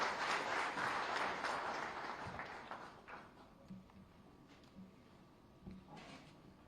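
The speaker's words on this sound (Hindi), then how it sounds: "लगातार तालियों के साथ।" Applause from the crowd at an investors' meet for the PM MITRA textile and apparel park near Lucknow. Dense clapping starts strong, fades over about three seconds, then thins to a few scattered claps.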